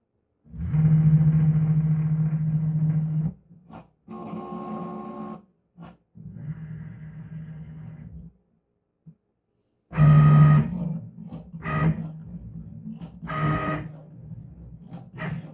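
A Cricut cutting machine cuts card on a 2x2 card mat, giving a loud buzzing motor hum in bursts that start and stop, with short pauses and some rattling between passes; no one talks.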